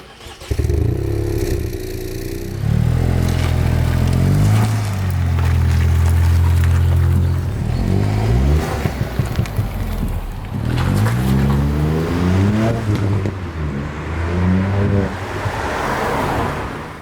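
A Mk8 Ford Fiesta ST with a Mountune M225 package revs and accelerates hard from launch control, its exhaust roaring and rising in pitch through several gear changes, loud and close.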